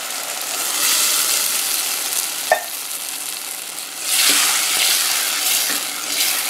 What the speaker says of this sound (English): Go ahead and mix them in good.